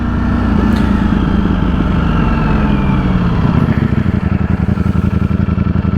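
An Aprilia V4 motorcycle engine runs close and loud, holding a steady throaty drone that turns into a choppier, pulsing beat toward the end, with no talking.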